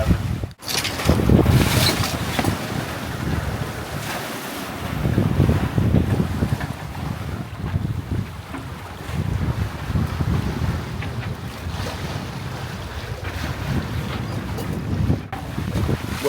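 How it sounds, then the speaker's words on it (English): A sailboat under way in a steady breeze, with continuous wind buffeting the microphone, water rushing along the hull and a low, rumbling wash throughout, fairly loud and unbroken with no talk. "we have had a pretty damn lovely sail so far. The wind has been perfect."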